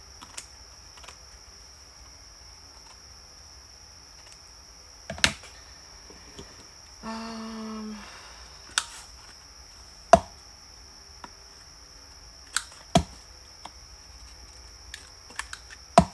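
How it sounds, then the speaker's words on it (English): Scissors trim a small piece of paper during a card-making session, a short burst of quick snipping near the mic, set among scattered taps and handling clicks in a quiet room. "Where's my scissors? Here they are. Let's trim that just a little."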